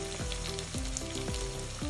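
Vegetables and garlic sizzle and fry steadily in a hot pan, with a dense continuous crackle and a few stirring scrapes at regular intervals, close and fairly loud.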